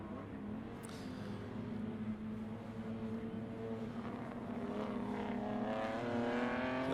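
A BMW 325i race car, leading alone at a classic racing event, rounds the Euromarque hairpin, its engine note rising and sweeping in pitch as it accelerates out of the corner, moderately distant and steady.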